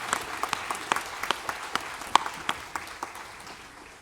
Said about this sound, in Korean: 영광의 박수로 하나님께 드리겠습니다.